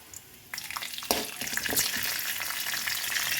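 Cumin seeds, urad dal, chana dal and peanuts fry in hot oil, a soft hiss that jumps to a loud, steady crackling sizzle as they hit the pan, with scattered pops throughout and no talking.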